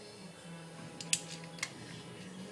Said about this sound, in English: Put your coil in, plug it in, hear it click